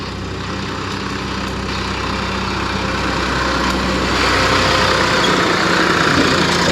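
A tractor engine idling steadily with a low, continuous rumble that grows slightly louder over several seconds, close by and with no voices.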